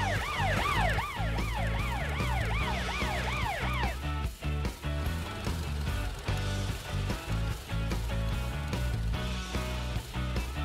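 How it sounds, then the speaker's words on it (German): A cartoon ambulance's siren wails in rising and falling sweeps for about four seconds over background music, then cuts off while the music carries on. "Vergiss nicht deine Sirene und dein Warnlicht,"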